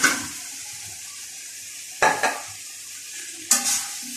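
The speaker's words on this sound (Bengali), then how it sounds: "ভালো করে নেড়ে চেড়ে নিব।" Utensil stirring boiled liver in hot spiced oil in a pan, two or three quick scraping clatters over a soft steady sizzle, close by and without talk.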